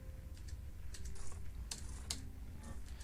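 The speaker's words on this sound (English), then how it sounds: "I'm going to hit backspace." A computer keyboard key, the backspace, is tapped a few times during play of the game Caverns of Xaskazien II, giving short, crisp clicks close by over a steady low hum, with no talking.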